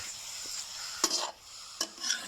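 Pork belly frying in a pan with a steady, quiet sizzle, broken by two sharp stirring scrapes of a utensil near the one- and two-second marks.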